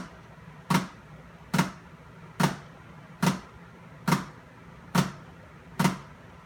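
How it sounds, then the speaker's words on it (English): Flam rudiment played with two sticks on a drum, seven crunchy doubled strikes at a steady slow pace, close and fairly loud over faint room noise. "we're going to add a third rudiment called a flam."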